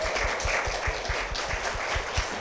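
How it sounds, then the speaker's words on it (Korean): A church audience at a Korean church service claps steadily in a rhythmic, fairly even beat, with no speech over it. "큰 박수 부탁드립니다."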